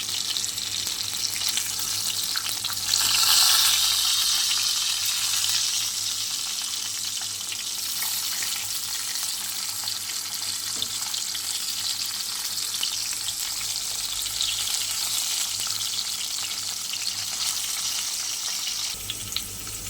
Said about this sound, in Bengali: চলো মাছটা ভালো করে ভেজে নিই।